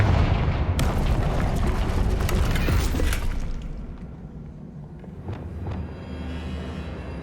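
A Confringo blasting spell explodes in Hogwarts Legacy, a loud blast at the start and another around three seconds in, each followed by a crackling, rumbling roar of falling debris that fades into quieter rubble noise.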